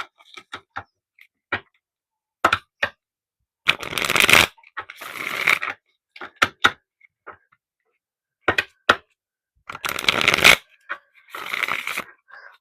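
Tarot cards are shuffled close to the microphone in several separate crisp riffling bursts with short quiet gaps between them, and no voice over them.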